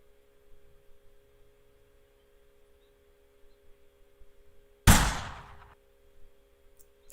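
A gun sound effect in a Blade and Sorcery video game mod: a single sharp, loud blast with a short decaying tail fires after several seconds of faint low hum and quiet clicks.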